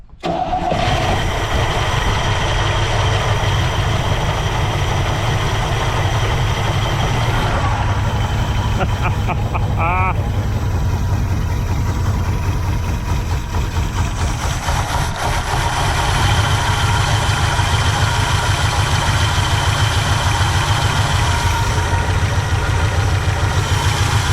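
A 1964 Pontiac Catalina barn find cranks and fires up after decades sitting, then settles into a loud, steady idle with small revs, running continuously close by.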